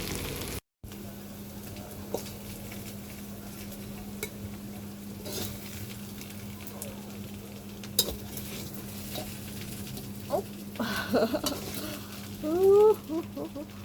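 Food is tossed and stirred in a pan with chili flakes and vinegar outdoors, soft continuous scraping under a steady hum, with a few louder clatters near the end.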